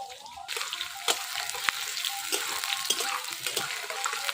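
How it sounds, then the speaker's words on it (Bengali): Chopped onion frying in mustard oil with dry red chilli, whole garam masala and cumin in a village Bengali kitchen, a steady close hiss of sizzling with a few louder crackles and stirring clinks, no talk. "পেঁয়াজটা কিছু সময় ভাজবো"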